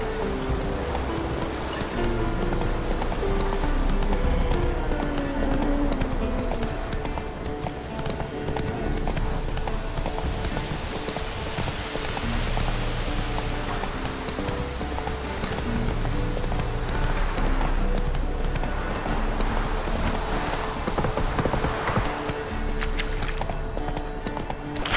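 Roach the horse gallops in The Witcher 3, rapid hoofbeats clip-clopping steadily and loud, blended with a rain-like patter and continuous game ambience throughout.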